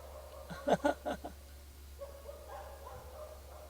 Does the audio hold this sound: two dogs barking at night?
yes